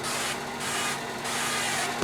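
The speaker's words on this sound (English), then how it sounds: "We'll go ahead and spray the casserole dish." Cooking spray is applied to a 9x13 casserole dish in two or three close, steady hissing bursts that run almost continuously.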